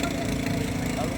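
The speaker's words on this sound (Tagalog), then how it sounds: "Generator." A boat's generator runs with a steady, loud low-pitched engine drone, close by, with voices faintly under it.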